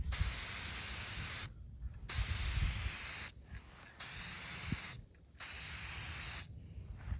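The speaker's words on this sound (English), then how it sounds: "Hold your can about 6 inches away from your project and just give it a light coat." Spray paint can misting a light coat onto a piece of furniture in several loud, steady hissing bursts separated by short pauses, with no talking.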